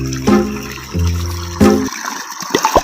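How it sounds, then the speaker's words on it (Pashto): Water runs and gushes loudly nearby, surging in several bursts, then breaks into a few sloshing splashes toward the end. "دلته خو والا چې اوبه چالو دي"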